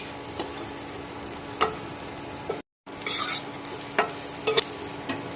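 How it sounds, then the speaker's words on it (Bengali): Spiced potatoes fry in butter with a soft, continuous sizzle, while a spoon stirs and scrapes the pan in sharp, irregular strokes every second or so. "সমস্ত কিছু সুন্দর করে ভালো করে ভেজে নিয়েছি"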